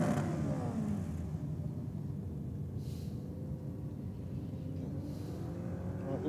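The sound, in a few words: Holden Commodore race car engine running at the drag strip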